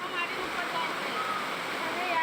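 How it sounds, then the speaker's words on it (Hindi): Fast-flowing monsoon floodwater from swollen rivers and drains makes a steady, dense rushing roar with no pauses. "पानी का तेज बहाव है"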